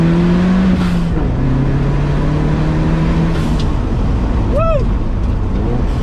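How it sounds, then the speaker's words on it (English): Turbocharged Vauxhall VX220 Turbo engine on the move, a steady loud drone with falling engine tones and a brief rising turbo whoosh near the end, heard from inside the car. "You hear the whoosh of the turbo."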